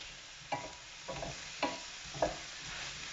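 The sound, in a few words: crushed garlic frying in a pan with mushroom and aubergine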